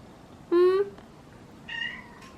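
A cat meows twice indoors, a loud drawn-out call followed after a short pause by a second, quieter and shorter meow, against a low background hum.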